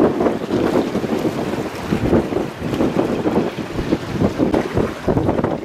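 A wooden light-luring bait boat working with a purse-seine fishing fleet at sea off the Duong Dong estuary, heard as a steady rush of wind and lapping water with a low engine drone throughout, no voices.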